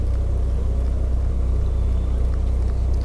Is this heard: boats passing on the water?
yes